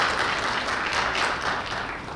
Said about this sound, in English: Give coaches a round of applause.